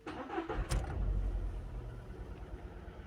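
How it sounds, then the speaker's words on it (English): A Skoda car engine with a misfire cranks and catches, giving a sharp start burst followed by a steady, rough low idle rumble, fairly close and with no talking. "And now we're gonna start the engine."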